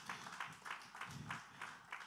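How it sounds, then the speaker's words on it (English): Faint applause from a lecture audience in an auditorium, a soft, steady patter of many hands with gently rising and falling swells over about two seconds. "Another round of applause"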